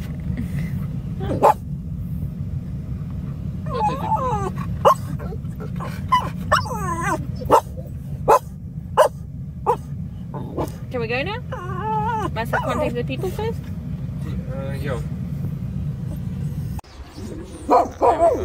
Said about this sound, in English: Are you barking at the birds or the people?